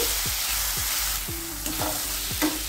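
Chicken masala with salt and turmeric stirred in a hot pan, a steady sizzle and frying hiss under repeated scraping strokes of a spoon, close up, with no talk.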